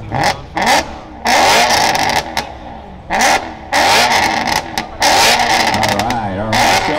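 A white BMW at a big BMW car show revs hard in sharp repeated blips with brief dips between, loud and close, with crowd noise and voices around it.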